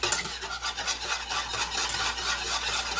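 A rubber whisk scrapes and rubs steadily against a pan, not a non-stick one, breaking down butter for gravy, a close, continuous raspy swishing with no talk.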